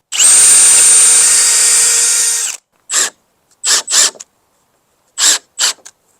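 A power drill pre-drills the ends of long wooden boards for a raised garden bed, with a loud sustained whine for over two seconds, then several short trigger bursts spaced apart.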